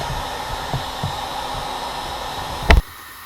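Heat gun or hair dryer blowing steadily on an inflatable boat part, a constant close whooshing hum that cuts off abruptly with a clunk near the end.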